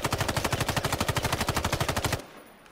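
Rapid automatic rifle fire in the battle royale game Islands of Nyne, a steady, loud burst of about two dozen evenly spaced shots that stops abruptly after about two seconds.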